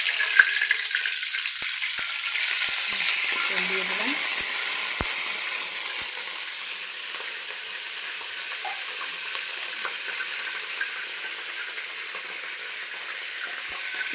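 Oil heats in a kadai for chicken kasha with ground spices, giving a steady, broad sizzling hiss that stays fairly even and slowly eases, with no talk over it.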